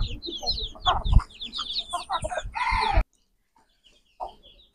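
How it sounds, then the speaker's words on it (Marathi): Free-range country hens cluck and call close by, several busy chattering bursts followed by a sudden drop to near silence and one short final cluck. "हे बघा, ही गावरान कोंबडी"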